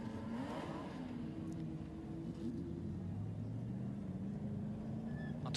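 A heavy Dodge Charger race car runs at the Le Castellet circuit during a French championship, its engine a steady, continuous drone with a shifting pitch that never drops away.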